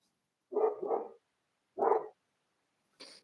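Dogs barking indoors, a double bark followed by a single bark and then a short higher yelp, close and clear with silence between, no voices.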